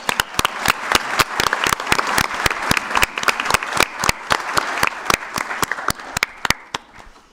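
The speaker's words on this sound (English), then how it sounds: "let's give them both a round of applause" Town council meeting attendees applaud two council members, with a scattered crowd clapping and several sharp, distinct claps standing out nearby in an irregular rhythm over a softer background patter.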